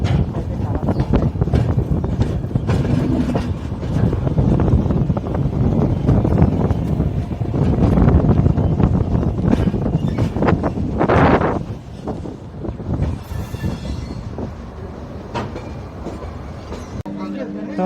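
A Vistadome coach train from Visakhapatnam to Araku runs in a loud, continuous rumble mixed with wind buffeting. The noise eases somewhat toward the end.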